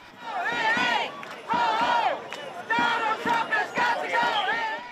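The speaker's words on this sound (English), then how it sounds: "joined the crowds in chanting, demanding the federal government not deploy national troops" Protesters at a street march in Chicago chant loudly in unison, repeating a rhythmic call in several surging bursts from a large crowd nearby.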